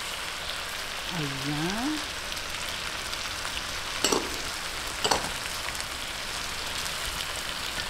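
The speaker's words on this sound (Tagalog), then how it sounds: "Ayan, lagay po natin itong ating chicken. Medyo lang po gisa-gisahin natin." Chicken sautéed in a pan for coconut-milk adobo sa gata, after chili has gone in: a steady close sizzle and hiss throughout, with two brief clattering stirs and a single short spoken word.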